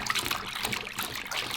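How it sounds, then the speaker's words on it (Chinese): Raw pork ribs being rinsed clean with water in a basin: a close, continuous splashing trickle of water sloshing around, with no talking. "3分钟之后加入清水清洗干净"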